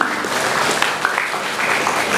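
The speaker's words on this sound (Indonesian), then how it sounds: "Untuk itu boleh kita berikan tepuk tangan sekali lagi, adik-adik." Audience applause at a Kesbangpol Kota Jambi seminar for university students in Jambi, a steady dense clapping that fills the whole stretch at even loudness, close and alone without voices.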